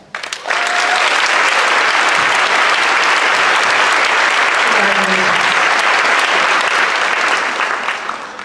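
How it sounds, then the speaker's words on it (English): Sustained, loud audience applause for award recipients at a high school senior class night, starting abruptly and holding at a dense, even level for several seconds before easing slightly at the end. "let's give them a round of applause"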